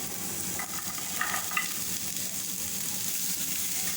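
Mixed vegetables and boiled peas fry in a hot pan, a continuous close sizzle with a few clinks and scrapes of stirring, no talking.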